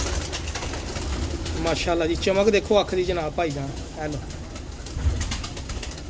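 Old pigeons coo from a loft or coop, their low rolling calls running under close, continuous male speech.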